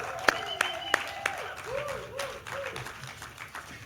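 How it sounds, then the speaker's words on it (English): Light conference-audience applause continues as speakers walk up to the stage, a few sharp individual claps early on, thinning out, with voices and murmuring audible beneath it. "so keep the applause going, please."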